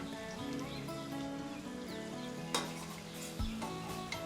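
Sajjappa frying in hot oil until golden brown, a steady close sizzle with occasional stirring clinks and scrapes.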